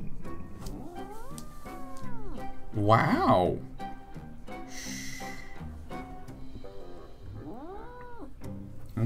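A grumpy house cat growls and yowls in drawn-out, rising and falling caterwauls with snorting breaths in between, loud and close, while a person talks briefly.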